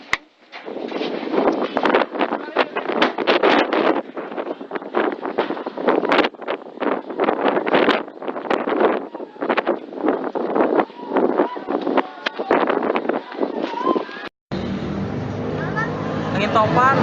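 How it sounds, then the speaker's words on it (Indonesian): Strong, gusting tornado-force wind in Aceh roars and buffets the microphone in loud, continuous bursts, then shifts to a steadier rush. "Angin topan."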